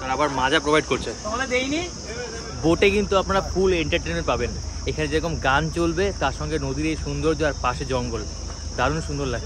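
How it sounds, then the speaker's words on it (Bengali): Steady cricket chirping beside a jungle river in the Sundarbans, continuous throughout with an engine-like hum beneath, while someone talks over it. "ঝিঝি পোকার ডাক তত বেশি বাড়ছে"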